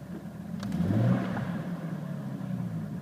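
A 1996 Jeep Cherokee Sport engine with 202,000 miles revs briefly from idle, a mid-pitched rumble rising to a peak near one second and then settling back to a steady idle.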